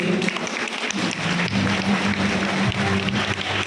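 Sustained applause from a large parish audience at a priests' farewell, dense and even, with a low hum underneath.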